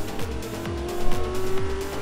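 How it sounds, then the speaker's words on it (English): Hot Wheels diecast trucks, a Ford and a Chevy C10, race to a finish line, with a steady high tire squeal and repeated whooshing passes over a rumbling motor bed. "Closes the door on him as they come to a screeching halt past the finish line."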